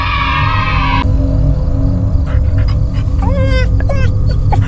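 A dog in the horror video game Fears to Fathom: Carson House whimpers and yips in short, high, whining cries, fairly close, over a steady low background hum.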